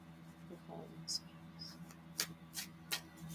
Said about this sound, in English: I have to shuffle a lot because I'm worried about pulling out the same exact damn cards again